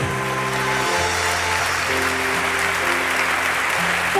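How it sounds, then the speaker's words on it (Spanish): A church congregation applauds in praise of God, steady dense clapping blended with sustained instrumental music tones underneath, loud and unbroken throughout. "dele ese aplauso al Dios Todopoderoso"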